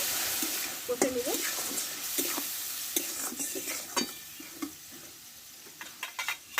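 A spice paste of coriander and cumin powder with a splash of hot water is stir-fried in a pan, giving a continuous sizzle under repeated close scraping strokes of a spatula.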